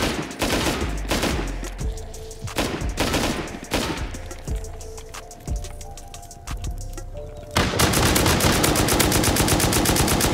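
Gunfire from players and an automated turret in a base-raiding game, rapid bursts of loud, sharp shots pounding in an uneven rhythm, then a sustained, continuous stream of fire in the final seconds.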